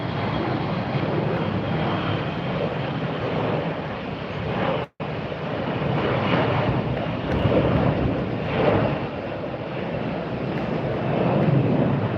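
An American Airlines jet passes at Tampa airport on a very windy day, a steady broadband roar with heavy wind buffeting on the microphone, nearly continuous with one brief dropout.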